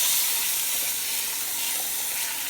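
Roast searing in a hot pan gives a steady, loud, bright sizzle with constant hiss and crackle, up close and alone, with no voices.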